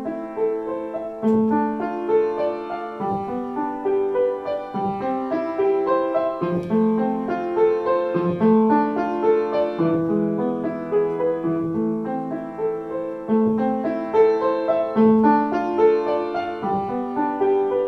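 Solo piano playing a little prelude with legato sustain pedaling, chords connected smoothly as each new harmony is caught cleanly, steady moderate loudness and a continuous flowing rhythm, no voices.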